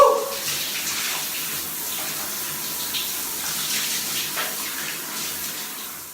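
Water pours from a shower in a steady, loud rushing hiss that fills the whole stretch, close to the listener, with no talking heard.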